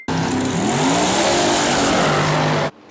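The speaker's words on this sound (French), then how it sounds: "une Rolls-Royce Silver Shadow" A Rolls-Royce Silver Shadow engine revs loudly and close, its rising and falling tones sweeping upward then settling, sustained for under three seconds before cutting off abruptly.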